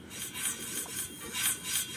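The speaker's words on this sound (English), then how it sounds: "And now you're cutting the grass by scissors." Scissors snip through grass in the Roblox game, a dry, rasping cut repeating in a steady rhythm of close, even bursts with no voices over it.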